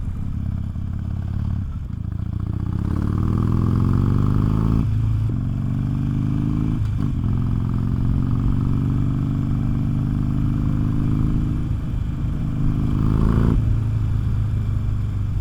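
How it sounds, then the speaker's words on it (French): A motorcycle engine and exhaust drone steadily while riding, with the pitch rising and dipping through gear changes and brief throttle lifts; loud, close and continuous, with no talking. "pour que vous puissiez entendre un petit peu l'échappement là"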